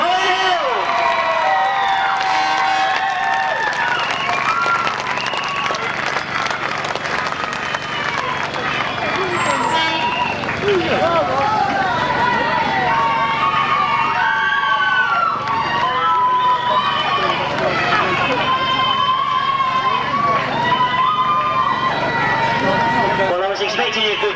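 Large crowd cheering and applauding for the winners at a 1994 grasstrack motorcycle race meeting, a steady loud roar sustained throughout with a commentator's voice over the top.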